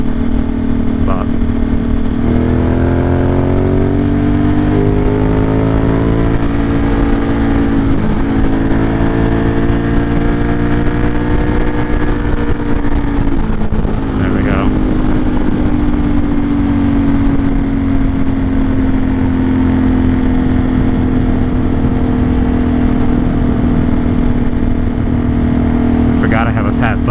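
A motorcycle engine drones steadily while riding, its pitch rising and falling through gear changes and acceleration, loud and close, with wind noise and someone talking over it.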